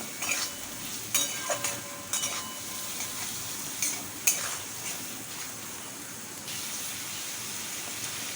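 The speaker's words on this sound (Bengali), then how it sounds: "আরও দু থেকে তিন মিনিট মশলাটাকে ভালো করে কষিয়ে নেব" Salted spice masala sautéed in oil in a pan until the oil separates: a continuous light sizzle broken by repeated sharp scrapes and taps of a spatula stirring, close by, with no talking.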